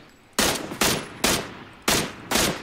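Gunfire in the video game PUBG: five loud, sharp single shots spaced about half a second apart, each with a short decaying tail, with no talking.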